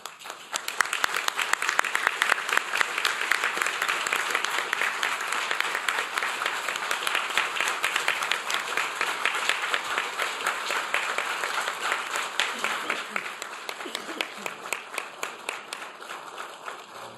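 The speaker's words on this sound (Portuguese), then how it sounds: "para entrega do certificado sob uma salva de palmas" A formal induction ceremony greets honoree Olavo Rigon Filho with sustained applause from an audience as he receives a certificate, a dense, steady clatter of many hands that lasts the whole stretch and only thins slightly toward the end.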